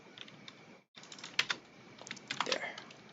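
Typing on a computer keyboard, close and fairly quiet, with irregular key clicks in short runs and a brief silent gap near the start.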